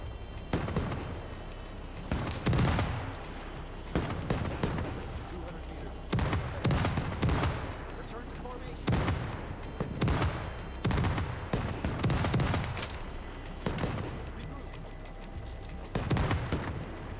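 Repeated musket and cannon fire in the pirate game Nassau 1715, set in a public pirate versus British ship battle: over a dozen sharp, loud bangs and booms in irregular bursts, with voices heard between shots.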